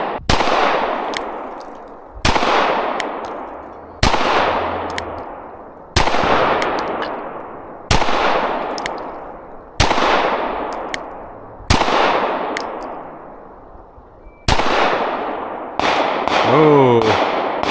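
A PSA Micro Dagger pistol fires nine sharp, loud shots outdoors at a steady rapid pace, each crack followed by a long echoing decay, with a metallic ring near the end.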